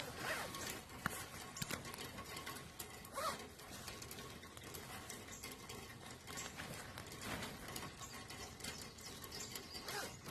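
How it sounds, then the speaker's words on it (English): A wet Big Agnes Tiger Wall UL2 tent vestibule zipper is drawn open in short rasping pulls, faint and close, with rustling fabric and light mechanical clicks throughout. "be careful with the vestibule when it's wet out and you want to unzip it"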